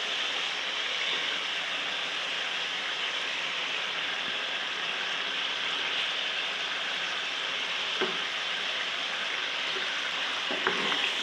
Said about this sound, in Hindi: तकरीबन 6 से 7 मिनट में भूनूँगी चिकन को